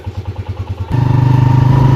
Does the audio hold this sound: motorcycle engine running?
yes